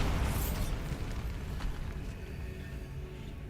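A Bombarda blasting spell goes off in a Harry Potter video game, a loud, broad rumbling explosion that bursts at the start and rolls on steadily, with no talk over it.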